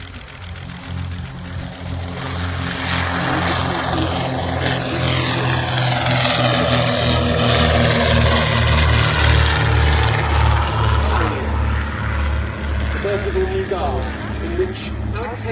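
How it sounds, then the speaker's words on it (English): A de Havilland DH-88 Comet racing propeller aircraft makes a loud fly-past at an air festival at Duxford. Its droning engine note swells and shifts in pitch as it passes, while a commentator keeps talking over it. "It's the de Havilland DH-88 Comet,"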